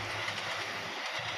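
A passenger train hauled by a CC203 diesel locomotive rumbles steadily along the rails, a dense continuous roar with no voices over it.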